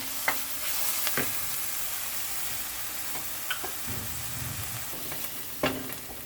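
Onions sautéing in a pan for eggplant sabji, a constant moderate sizzle broken by scattered spatula clicks and scrapes as they are stirred, with no talk.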